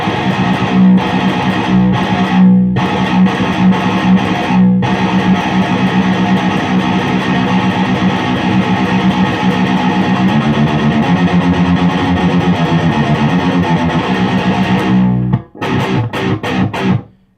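An ESP Ltd H-400 electric guitar with Seymour Duncan JB/59 pickups plays heavily distorted metal riffs with fast, articulate alternate picking, dense and loud, broken by a few short palm-muted stops and a brief pause near the end.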